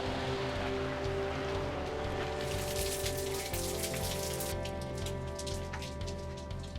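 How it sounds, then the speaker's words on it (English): Steady rain falls outdoors on surfaces, a dense continuous patter of drops that thickens midway, with a faint background hum and no talking. "Time to get out of this rain."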